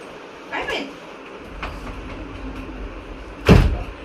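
A sliding door being pushed along its track, a short rumble near the start, a softer rolling scrape, then a loud near thud as it stops, with faint background noise.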